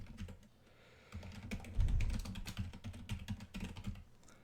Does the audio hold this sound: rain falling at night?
no